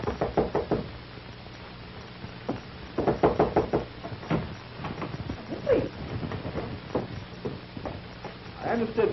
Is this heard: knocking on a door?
yes